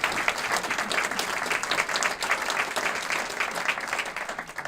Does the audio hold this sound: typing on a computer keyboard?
no